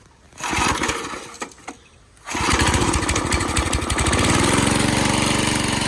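A Craftsman tiller engine, unused for over 20 years, is pull-started with a couple of short sputters, then catches and roars into a loud, steady, chugging run.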